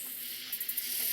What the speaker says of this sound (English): Another late season recording with insects on it as well.